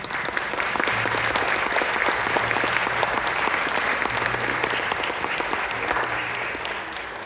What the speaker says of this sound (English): And we'll give you a round of applause.